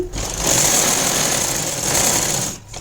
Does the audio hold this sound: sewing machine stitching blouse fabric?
yes